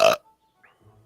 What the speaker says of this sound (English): I can swallow air and burp, so there.